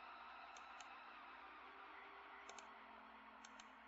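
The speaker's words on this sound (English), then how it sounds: "You can disable or enable any of them by single-clicking it." A computer mouse clicks faintly on a Windows PC: three pairs of quick, light clicks spaced across a few seconds over a steady background hum.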